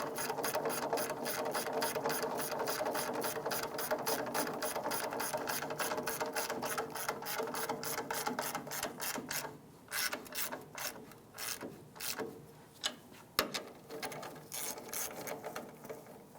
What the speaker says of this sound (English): We switched over to a 15mm ratchet wrench for clearance issues here.